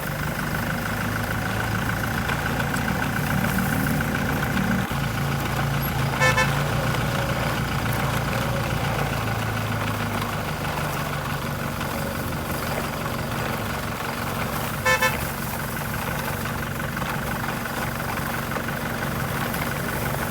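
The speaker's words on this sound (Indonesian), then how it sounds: "Mesin kedua truk mulai dinyalakan. Suara diesel yang khas terdengar menggelegar." Two JNT delivery trucks in a children's toy setting start up and settle into a steady, loud diesel idle rumble. Two brief toots cut through at separate moments.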